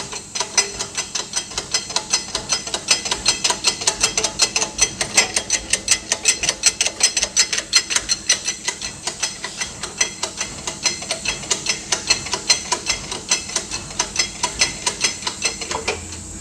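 A mechanical jack is worked by hand to press a sleeve off a car part, giving a steady, close ratcheting click that repeats rhythmically for the whole stretch with no talking.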